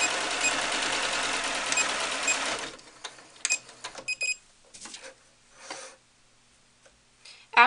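A sewing machine stitches a ribbon across a doll's cloth shoe piece in a steady, rapid run that stops after a few seconds. Scattered soft handling clicks and rustles follow in near quiet.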